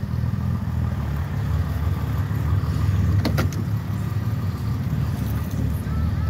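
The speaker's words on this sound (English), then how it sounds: "Fires right up, no problem," A 1965 Mercedes-Benz 230 SL engine runs at a steady idle with a low, even rumble throughout, plus a brief faint clicking partway through.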